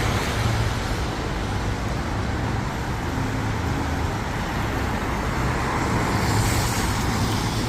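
Steady road traffic on Bridge Street during a commute to work, a dense continuous rumble and wash of passing cars, buses and trucks, moderately loud and unbroken, with no talk over it.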